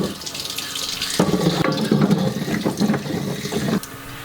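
Tap water runs steadily into a sink while peeled carrots are rinsed, a continuous close splashing hiss that swells and shifts as the vegetables move under the stream, with no talk.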